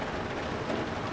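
Rain and storm noise on a U-boat deck in the UBOAT submarine game, a steady, soft hiss of falling water with no break, and no voices.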